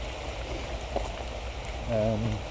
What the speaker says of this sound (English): As you may have noticed, it is raining.